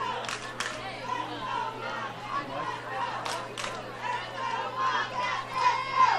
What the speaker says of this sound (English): Wildcats fans are cheering a little bit in the dugout